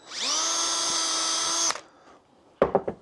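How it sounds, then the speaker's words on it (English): A power drill whines steadily for about a second and a half while boring a pilot hole, then stops. A few sharp clattering knocks follow a moment later. "So then just go ahead and drill a pilot hole."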